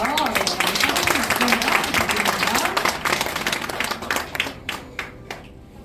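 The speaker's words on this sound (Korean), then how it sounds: "분들의 따뜻한 박수가 필요하겠죠" Audience applause rises at a signing ceremony for an investment agreement between Sejong city and four companies. It is dense and sustained, then thins into scattered claps toward the end, with a voice speaking over the start.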